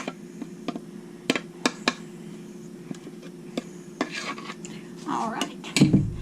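A spatula scrapes and taps against a mixing bowl as Hawaiian banana bread batter with coconut and pineapple is cleared out, giving scattered sharp clinks and a louder scraping burst near the end over a steady low hum.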